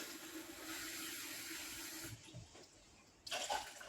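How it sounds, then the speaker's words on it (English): Water pours into a pot of rice, a continuous splashing stream that runs steadily, thins out briefly and then rises again in a short burst near the end. "to that I add double the amount of water to rice"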